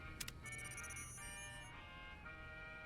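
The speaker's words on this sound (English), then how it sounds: "Yup, the beeping sounds." Electronic tones from Fallout: New Vegas's companion command menu beep and chime in a short melodic sequence, followed by a sustained synthetic tone, fairly faint.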